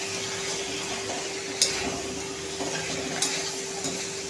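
Dry cauliflower sabzi is stirred in a pan under a steady low sizzle, with two clear scrapes of a spoon against the pan.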